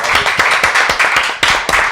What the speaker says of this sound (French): on va tous vous applaudir très fort